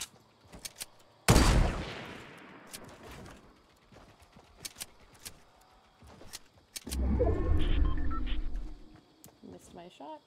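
Gunfire in Fortnite Battle Royale: a loud sharp blast echoing away, a scatter of small clicks and taps, then a second heavier burst of rumbling impacts, with a voice speaking in between.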